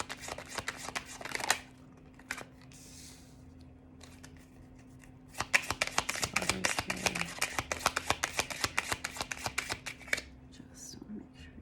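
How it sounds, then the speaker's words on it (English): Tarot cards being shuffled by hand nearby: a short riffle early on, then a longer stretch of rapid flicking and slapping card sounds, with quiet breathy talk at moments. "Let's pull some clarifying cards."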